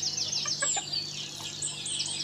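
Native village chickens raised free-range in Ratnagiri give a quick run of high chirping calls early on, then softer scattered peeps over a low steady background hum.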